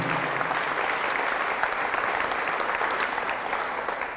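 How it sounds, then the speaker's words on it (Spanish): A church congregation bursts into loud, continuous applause during a healing service, the sound a thick, even roar of many clapping hands that holds steady throughout. "Fuertes aplausos al Rey de Reyes y al Señor de Señores."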